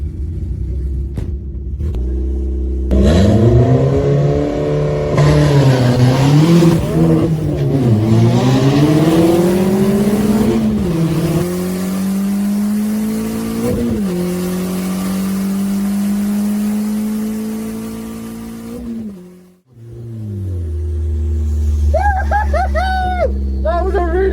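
A 4x4 Vauxhall Nova with a 2-litre turbo engine and big slick wheels launches loudly and revs hard through rising gear pulls, holding a steady roar before a brief lift and drop back to idle.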